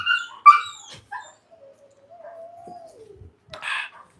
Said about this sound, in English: Hey, these dogs still got to get worked, you know. If they was tired, they would not be making all of this noise right now.